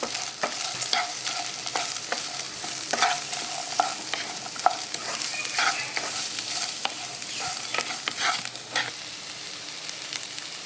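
A spatula scrapes and stirs coconut, roasted gram and salt in a hot pan with a steady, soft sizzle, repeated tapping strokes close by and no voices.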